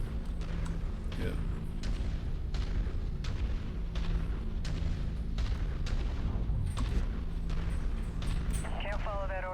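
Repeated heavy weapon blasts from a mech firing an alpha strike in MechWarrior 5, booming shots at steady intervals over constant engine rumble and game noise, with a voice talking over it.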